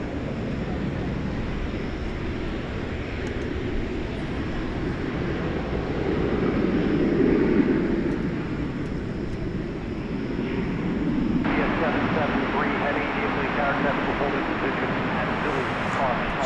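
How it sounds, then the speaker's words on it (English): An American Airlines Airbus A321 takes off at night, a broad, steady jet roar that swells and fades at a distance, with a voice talking over it. "It's an Airbus A321."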